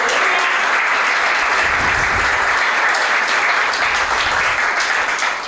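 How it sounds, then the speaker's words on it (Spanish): A church congregation claps loudly and continuously, a dense, sustained wash of applause that carries evenly from start to finish. "Dar un fuerte aplauso al Rey que está aquí."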